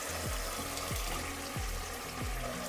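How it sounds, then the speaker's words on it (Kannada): Mushrooms frying in oil, with ground masala about to go in: a soft steady sizzle and bubbling fills the pan while faint repeated low thumps, like stirring, recur about every half second. "ಮಶ್ರೂಮ್ ಎಣ್ಣೆಲಿ ಚೆನ್ನಾಗಿ ಫ್ರೈ ಆಗಿದೆ. ಇದಕ್ಕೆ ರುಬ್ಬಿಟ್ಕೊಂಡಿರೋ ಮಸಾಲೆನ ಸೇರಿಸ್ಕೊಳ್ಳೋಣ."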